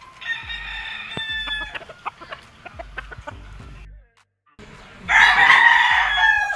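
Yellow-legged gamefowl roosters at a gamefarm crow and cluck nearby. A crow opens the clip, scattered clucks and calls follow, and a brief lull gives way to a loud, drawn-out crow at the end.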